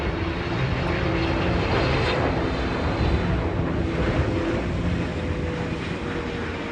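A heavy airliner on final approach to land on the runway, its engines giving a loud, steady broadband roar that holds throughout with some wind noise and no talking.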